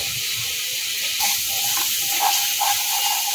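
Egg curry masala (dim kosha) with a little sugar, frying in a pan with very little oil: a steady close sizzling hiss, getting louder midway with soft bubbling pops, no talk.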